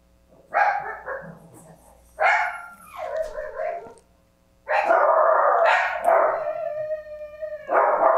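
Several dogs bark in short bursts and longer howling yelps, loud and close, in three separated clusters with quiet gaps between.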